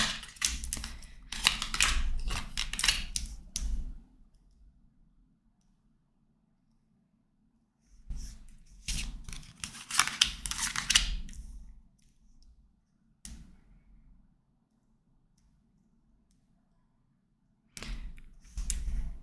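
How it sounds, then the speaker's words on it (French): Tarot cards laid out on a table during a reading: crisp papery slides and taps in short bursts, separated by quiet gaps, close and fairly faint. "Et on va déjà aller poser le tarot."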